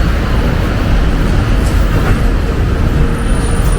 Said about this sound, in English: That is the AC bus.